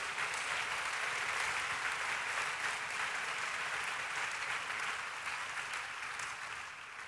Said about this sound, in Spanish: let's give Jesus another hand clap